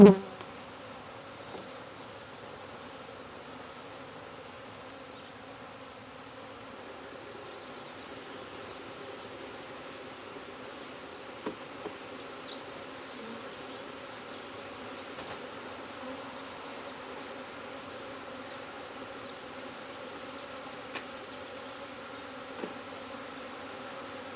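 Honey bees buzz steadily around open and capped comb frames during routine hive maintenance on a small homestead, a constant close drone with occasional louder passes of individual bees.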